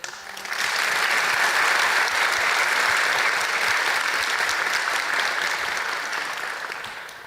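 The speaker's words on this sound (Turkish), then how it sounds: "Alkış yüksek geldi." An audience at a political youth Q&A event with Recep Tayyip Erdoğan breaks into loud, sustained applause, rising quickly and holding steady for several seconds before tapering slightly.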